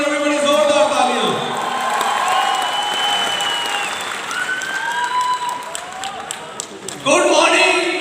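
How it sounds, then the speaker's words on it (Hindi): Audience at an awards function applauding and cheering for Mr Pawan Malik, loud clapping mixed with whoops and shouts, dipping slightly midway and swelling again at the end, with voices heard over it. "इसका जोरदार तालियां फॉर मिस्टर पवन मलिक"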